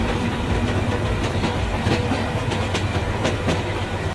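A train runs steadily in a Bangladeshi train simulator video game, wheels clicking over rail joints in a rhythmic clickety-clack over a constant low rumble.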